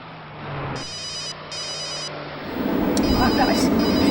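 A telephone rings in two short, bright electronic bursts, clearly audible over a low indoor hum, before heavier background noise swells.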